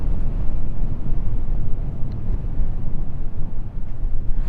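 Strong wind gusting around 60 in Las Vegas buffets the microphone in a loud, rough roar, rising and falling in gusts throughout.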